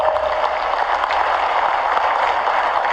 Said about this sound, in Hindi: आप हाथ की ताली तो बजाओ